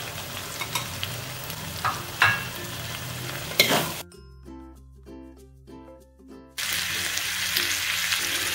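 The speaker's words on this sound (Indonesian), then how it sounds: "kita masukkan cekernya. Jadi teman-teman, cekernya udah direbus terlebih dahulu ya." Chicken feet, boiled beforehand, sizzle loudly in a hot pan while being stir-fried for street-style mie tek-tek, with steady frying hiss that drops out briefly behind a short musical break before returning.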